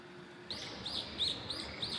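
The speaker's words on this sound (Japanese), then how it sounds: "この鳥の鳴き声もいい感じに響いてますね" Bird chirps echo through Takachiho Gorge, a series of about five bright, short calls at an even pace over soft outdoor ambience, moderately distant.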